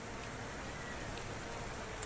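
Steady rain in The Thaumaturge, a dense even hiss of falling drops filling the scene at low, constant level with no voices over it.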